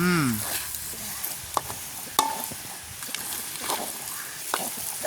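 Okra simmering in coconut milk in a pan is stirred, giving a soft bubbling sizzle with occasional sharp scrapes and clinks of the spoon. It sounds close and moderately loud, with no talking.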